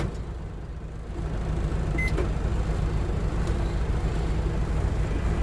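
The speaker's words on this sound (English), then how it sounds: "Stick it in the microwave for a couple minutes." A microwave oven running off an inverter inside a semi truck cab, reheating fried chicken: a steady low hum and rumble with faint engine and road noise underneath, and a short beep partway through.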